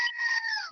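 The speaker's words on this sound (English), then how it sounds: "I have a screaming goat, so I'm going to make the screaming goat get your attention" A screaming goat sound effect plays once, a short, shrill, wavering bleat-like scream that ends with an abrupt low thump.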